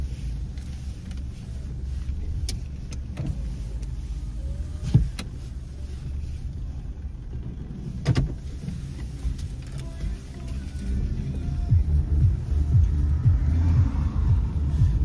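A car cabin on an evening drive home, with a steady low road rumble and engine drone, faint interior clicks and rattles, and the road noise swelling slightly toward the end.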